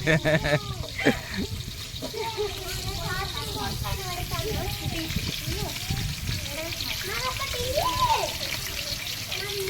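Onions tipped into hot oil already frying green chillies, cooked outdoors among friends, a continuous loud sizzle under lively overlapping chatter and shouting.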